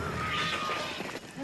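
A cat meows in an X-Files episode scene, a drawn-out, wavering cry heard close and fairly loud before trailing off.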